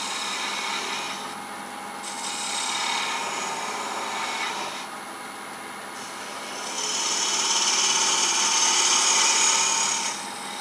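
A cove tool cuts end-grain wood, taking fine shavings. It makes a steady, close scraping hiss that swells and eases in waves and grows loudest near the end, with no voices.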